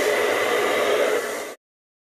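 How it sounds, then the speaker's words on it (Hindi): Nova hair dryer blowing steadily while drying hair, a loud continuous broadband whoosh that holds for about a second and a half and then cuts off abruptly, leaving silence. "जल्दी जल्दी से ब्लो ड्रायर करना शुरू करते हैं।"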